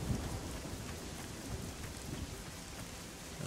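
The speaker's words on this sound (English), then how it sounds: "I like the rain." Rain falls steadily in the Orion: Prelude video game, a continuous soft hiss of a downpour with low rumbling underneath, quiet and with no voices.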